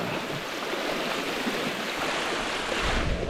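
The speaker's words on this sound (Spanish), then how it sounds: "La cascada." Waterfall on the Tanamá river, heard as a dense, steady rush of falling water close by, with a deeper surge near the end and no voices.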